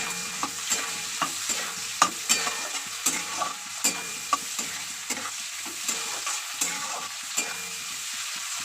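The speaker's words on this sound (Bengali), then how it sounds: "এইবার এগুলো একটু লাল লাল করে ভেজে নেব।" Chopped onions and green chilies fry in a pan with a steady sizzle, broken by regular scraping clacks of stirring, close and continuous, with no voices.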